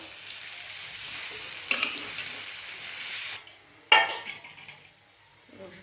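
Thin slices of bitter gourd sizzle steadily in a frying pan while being stirred, with a couple of sharp utensil clinks against the pan before the frying noise fades into quieter scraping.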